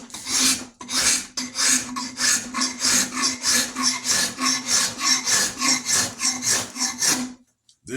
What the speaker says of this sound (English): This is the Nicholson rasp.